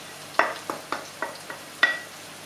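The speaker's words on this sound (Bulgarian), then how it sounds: "И започваме да ги пържим, като разбръхваме периодично." Two kinds of chopped onion fry in a hot pan for a grandmother's onion dish, soft sizzling broken by about six sharp scraping knocks as the mixture is stirred, heard close with no voices.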